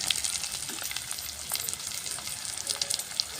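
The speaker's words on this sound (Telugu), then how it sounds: "ఒక చెంచాడు అంతా అల్లం వేస్తాను" About a spoonful of ginger frying in a pan, a close, steady hiss and crackle of hot oil with faint stirring scrapes, brief and continuous, with no voices.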